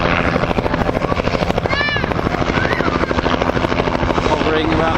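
Helicopter in flight close overhead, a loud continuous rotor chop with rhythmic blade thumping and engine whine, a voice speaking briefly underneath.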